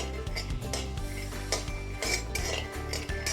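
A spoon scrapes and clatters steadily against a pan while a roasted peanut and jaggery mixture is stirred with the gas off, the metallic strokes close and continuous with no talking.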